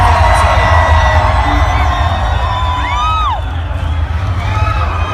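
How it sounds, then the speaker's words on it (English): A large crowd at a concert roars steadily with a dense wash of cheering and whoops, loud and sustained, a few whistles rising above the din. "This is the biggest crowd I've ever played in front of in this fucking venue right here."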